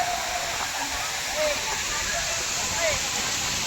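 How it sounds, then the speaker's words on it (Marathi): Kalmandavi waterfall pouring steadily as a continuous broadband roar, with voices talking faintly underneath throughout. "हा आहे वॉटरफॉल"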